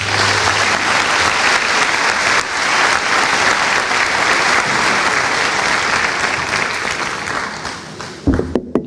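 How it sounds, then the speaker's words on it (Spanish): Loud, sustained applause from a large audience fills the hall at a Catholic theology talk on Passover and Easter, dense steady clapping that fades and stops near the end. "al Padre Francesco, para el que pido un fuerte aplauso"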